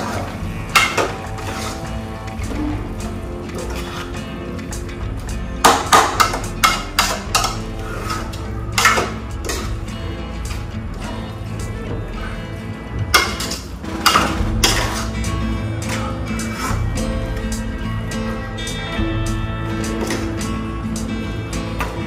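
A spoon mixes spinach curry in a metal pan: continuous scraping and clattering with repeated sharp knocks against the pan, heard up close for over twenty seconds.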